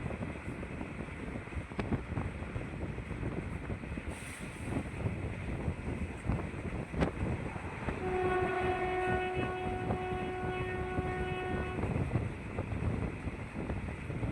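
Bhuj to Rajkot special passenger train running, a steady rumbling rattle of wheels on track heard from on board, with a long horn blast sounding for several seconds partway through.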